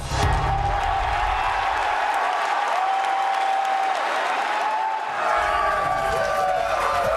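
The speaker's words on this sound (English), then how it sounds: "And the crowd goes wild." A crowd at the E3 2010 press event applauds and cheers loudly and without a break when the Zelda game is revealed. Sustained clapping and whoops fill the whole stretch, with faint tonal sounds running beneath.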